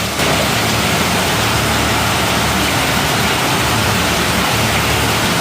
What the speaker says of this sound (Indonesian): Hujan lebat disertai angin kencang menerjang sejumlah kawasan di kota Medan, Sumatera Utara, Kamis malam.